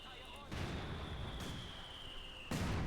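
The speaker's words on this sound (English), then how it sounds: "Miragefla's mortars just bombarding" A Company of Heroes 2 mortar barrage sounds as a dense roar of booms and rumbling impacts that swells at about half a second and again at two and a half seconds, with a battle din and a commentator talking over it.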